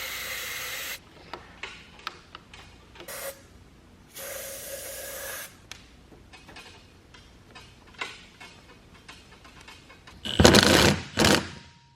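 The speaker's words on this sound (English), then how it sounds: "can't forget the hairspray" An aerosol can of hairspray hisses in several short bursts while motorcycle handlebar grips are fitted on a 15-year-old superbike; the close, bright sprays come alone with quiet pauses between them.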